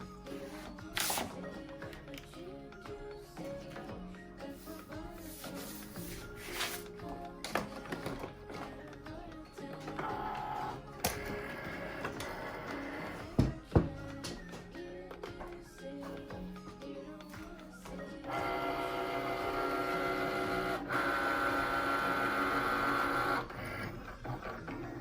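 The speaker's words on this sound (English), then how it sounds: "We are cutting on the medium cardstock setting and going to load it into" Cricut Maker machine working on cardstock at the medium setting, with whirring carriage moves, clicks and taps, then a steadier louder mechanical hum near the end, close and alone.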